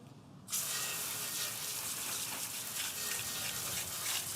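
Sprayed water hisses steadily as a car is rinsed down after washing, starting abruptly and then holding a broad, even gush with no talk.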